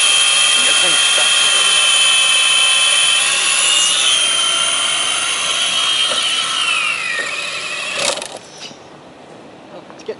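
A small electric model airplane motor whines loudly and steadily in flight, its pitch wavering and sliding downward as it manoeuvres, then cuts off abruptly near the end, leaving quieter background noise.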